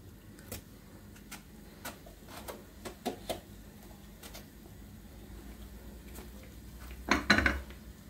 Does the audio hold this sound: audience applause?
no